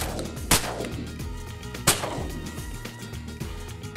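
Two shotgun blasts ring out during a duck hunt in Argentina, spaced over a second apart, each a sharp crack with a short echoing tail above steady outdoor background.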